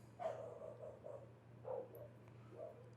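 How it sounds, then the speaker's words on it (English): A dog barking excitedly somewhere in the house: four or five short, faint, muffled barks spread across a few seconds over a steady low electrical hum, with no talking. "My dog is going wild."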